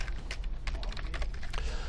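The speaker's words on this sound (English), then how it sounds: "you can add some text here by typing whatever you want to type" Rapid clicking of keys on a computer keyboard, quiet and close, with an uneven rhythm of keystrokes throughout and no voices.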